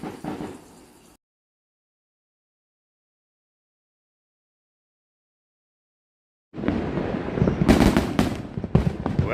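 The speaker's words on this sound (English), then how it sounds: "fireworks show" A New Year's Eve fireworks show erupts after a stretch of silence, with dense crackling bursts and sharp bangs popping in quick succession.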